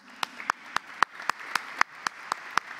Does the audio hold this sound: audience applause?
yes